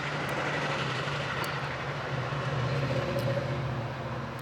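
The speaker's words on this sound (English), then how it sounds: "that's the metro train that we see in front of us there" A downtown-bound metro train rumbles past nearby as a steady low roar with rail hum, heard from a moving electric bike amid wind and traffic noise.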